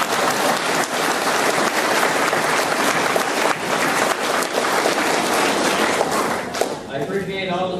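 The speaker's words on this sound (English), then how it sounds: "Could we clap for the rest of them," An audience at a rural electric association's 2010 annual meeting claps for the rest of the board members, a sustained, dense round of applause that tapers near the end as a voice begins speaking.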